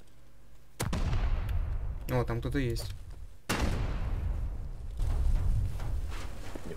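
Several loud, sharp explosions boom in sequence, each followed by a rumbling decay, with a brief spoken remark between blasts, during a raid in the video game Rust.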